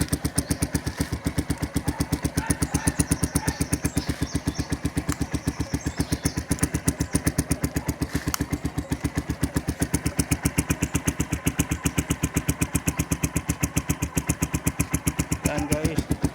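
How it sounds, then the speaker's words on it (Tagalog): A Motorstar Cafe 150 motorcycle idles through its muffler, sending out a rapid, even train of exhaust pulses that stays steady and fairly close throughout. "muffler sound"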